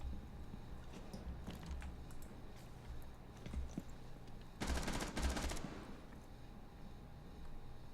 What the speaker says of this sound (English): This gunfire is messing with my Zen thing